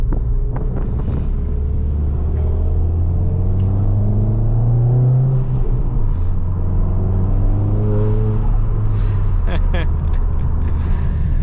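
Ford Fiesta ST200 with a Revo Stage 2 tune accelerating on the road, heard from inside with the window partly down: a steady engine drone rising and falling in pitch through the gears over constant road and wind noise.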